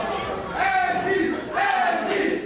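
A wrestling crowd at a tag team match cheers and chants in two loud rising swells, voices blending into a roaring, rhythmic call over general arena noise.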